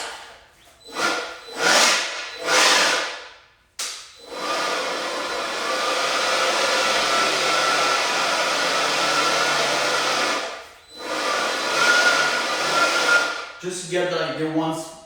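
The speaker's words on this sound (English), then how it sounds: "Then you're gonna use the blower." An air blower running over a freshly prepared epoxy floor before an Armorseal 1000 HS coating, roaring in several short bursts and then one long steady blast, with brief pauses and a faint clatter at the end.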